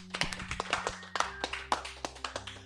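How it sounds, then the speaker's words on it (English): A few people clapping for a podcast's guests, sparse distinct hand claps in a loose uneven rhythm, close and fairly quiet, with no talking over them. "round of applause for Eli's top 3."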